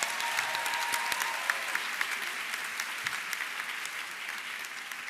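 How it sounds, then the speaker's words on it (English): A luncheon audience at a ZTA Foundation convention applauds silver award winners with sustained, even clapping from a large room that fades slightly toward the end. "Let's give them another round of applause."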